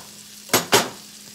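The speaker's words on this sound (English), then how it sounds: "I'm just going to add it to my bacon grease here." Butter hitting hot bacon grease in a skillet, two short, loud sizzling bursts in quick succession, then a low quiet hiss.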